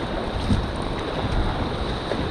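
Rough river water surges around a raft on the Indigirka, a dense, loud roar of waves and rushing current mixed with wind buffeting the microphone, steady and close throughout.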